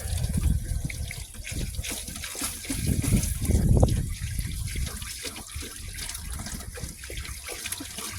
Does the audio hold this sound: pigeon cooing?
no